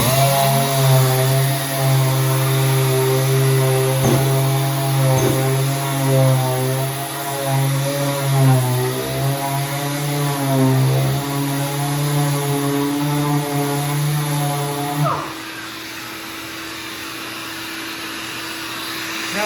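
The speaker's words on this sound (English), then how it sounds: "I'm going to sand it down with a 180 grit first, and then we'll go to a 320 grit" A power sander working a primed wooden arcade cabinet with 180 grit sandpaper, a loud steady motor whine with wavering pitch for about fifteen seconds before it winds down and a fainter hum remains.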